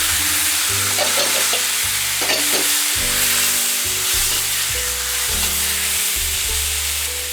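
Scallops, asparagus and mushrooms stir-fried in a wok give a loud, steady sizzle with repeated scraping and tossing from the spatula, close up and with no talking.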